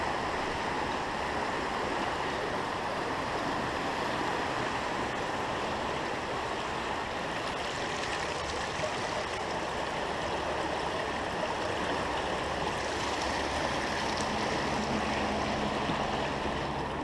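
The river at Post Falls on the Washington–Idaho border rushes steadily, a constant broad wash of flowing water heard up close for the whole stretch, with no voices.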